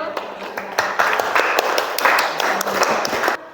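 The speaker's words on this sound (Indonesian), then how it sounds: "Oke, aplaus dulu." Classroom group clapping and applauding after a student presentation at a university in Papua, a steady patter of many hands for several seconds, close and lively.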